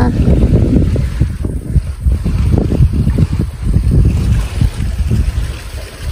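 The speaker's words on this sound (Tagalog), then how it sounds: "Sarap mahangin ngayon." Gusty wind buffets the microphone in loud, uneven rumbles, blowing continuously up close with no clear voices over it.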